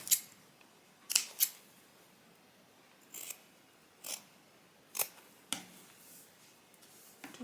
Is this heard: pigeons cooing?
no